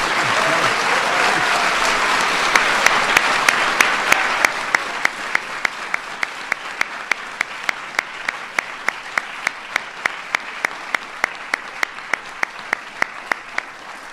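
An awards ceremony audience applauds finalists and winners with a dense burst of clapping that thins after a few seconds. Regular sharp clicks follow at a steady beat.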